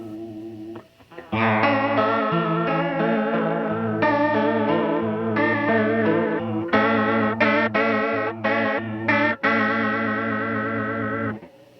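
Electric guitar chords and notes drenched in heavy, wobbling chorus from a Danelectro Cool Cat Chorus pedal at maximum settings, with a thick shimmering pitch sway and brief gaps between phrases.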